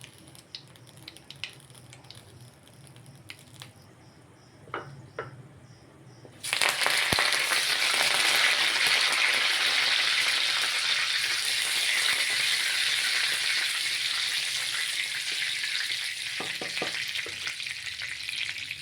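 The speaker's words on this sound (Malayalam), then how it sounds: "കടുക് പൊട്ടി വരുന്നുണ്ട്" Quiet scattered clicks, then a sudden loud crackling sizzle as mustard seeds pop in hot oil, continuing steadily until the end.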